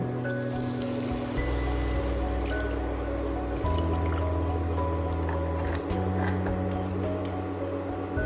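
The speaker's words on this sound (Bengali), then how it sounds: "এবার আমি জল দিয়ে দেব" Water poured onto soaked tamarind paste in a kitchen for a Bengali mixed-vegetable sour dish, a steady wet trickle and squelch running throughout under a low background hum.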